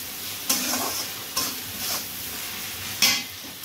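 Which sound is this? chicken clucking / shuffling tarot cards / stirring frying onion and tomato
stirring frying onion and tomato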